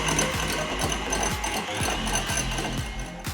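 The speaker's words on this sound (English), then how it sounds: "Into a medium mixing bowl, 5 egg whites, half a teaspoon of kosher salt. Beat until you get stiff peaks for about 2 minutes." An electric mixer whirs continuously in a medium mixing bowl, beating five egg whites with kosher salt toward stiff peaks, a steady close motor drone with rhythmic pulsing and no talking.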